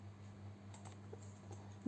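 Code is typed on a computer keyboard during a Python programming session, giving a few faint, scattered key clicks over a steady low electrical hum, with one louder click at the end.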